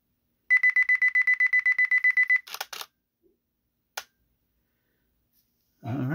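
A Nikon D850 camera on its 5-second self-timer gives a steady run of about a dozen evenly spaced high beeps, then a sharp shutter click pair and a later single click, with a brief rustle at the end.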